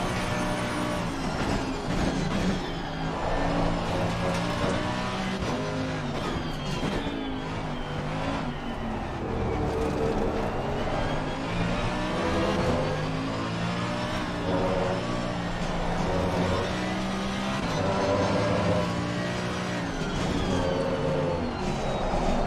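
A Ferrari race car engine roars in Assetto Corsa Competizione, loud and continuous, rising and falling through gear changes as it revs up and backs off around the track, with no voices over it.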